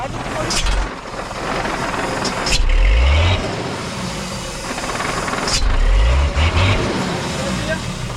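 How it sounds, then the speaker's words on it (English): A vehicle's exhaust brake rumbles loudly in low, pulsing bursts over steady road and engine noise, with people talking nearby. "that is the exhaust brake"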